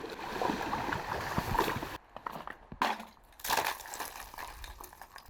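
Sea waves splashing against an icy shore on a cold coast, irregular washes and gurgling bursts of water that break off abruptly, fairly faint and close.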